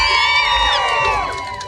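A crowd at a fair in Temecula cheers and whoops loudly for a racer, a dense burst of shouting and high-pitched yells that tapers off slightly.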